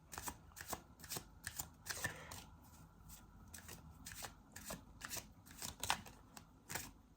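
Tarot cards shuffle close by in quick, crisp riffling bursts, the rapid papery flicks repeating steadily at low volume with no voices.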